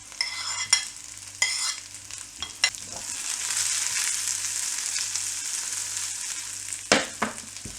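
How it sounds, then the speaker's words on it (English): Chopped shallots frying in a pan, sizzling steadily up close, with sharp scrapes and clatters of stirring at the start and again near the end, a low hum underneath and no one talking. "And also we can add our chopped shallots."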